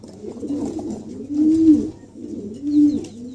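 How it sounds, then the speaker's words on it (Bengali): A pair of Lahori pigeons, both believed to be females, coo close by: a low, throaty murmur that swells twice into fuller rolling coos. "এখানে একজোড়া কবুতর আছে"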